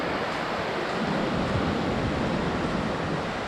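Ocean surf on Canggu beach in Bali rushes in a continuous, broad roar, close and steady, with wind buffeting the microphone and no talking.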